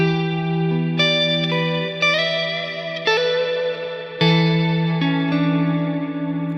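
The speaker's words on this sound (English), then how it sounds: "with the Immerse we have more depth, so the reverb is ringing longer" An electric guitar plays sustained chords and notes through a Neunaber Immerse stereo reverb pedal, each strum blooming into a long, shimmering, ringing tail that overlaps the next, loud and close with no talk.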